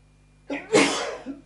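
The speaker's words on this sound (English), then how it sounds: "I'm going to sneeze." A single sharp sneeze, preceded by a short inhale and followed by a faint sniff, close and loud in an otherwise quiet room during a left-handed Squier Strat Affinity nut change.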